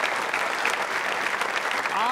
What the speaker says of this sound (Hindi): उनके सम्मान में तालियां जोर से बजाइए आप